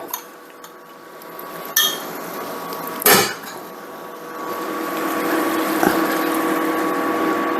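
Coffee goes into a pan of softened onions and garlic for bacon jam, with a clear metallic clink and clatter of cookware, then a rising steady sizzle and bubbling as the liquid hits the hot pan.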